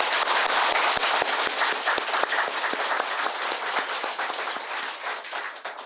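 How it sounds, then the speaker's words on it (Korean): A church congregation claps warmly during Christmas Day Mass, a dense, steady round of applause with sharp individual claps near the start that gradually thins and softens, with no talking over it. "예수님 환영하는 마음으로 뜨거운 박수 한번 보내드립시다"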